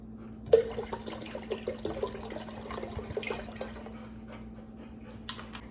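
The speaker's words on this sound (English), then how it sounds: "this is some leftover crawfish and shrimp liquid oil. I'm just gonna pour that in there." Leftover crawfish and shrimp boil liquid pours and splashes into a pot close by, a gurgling trickle with small drips that tapers off toward the end.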